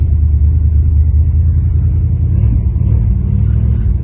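A 1966 Plymouth car engine idles steadily in the snow, a loud, continuous low rumble close by that holds an even pace throughout with no revving.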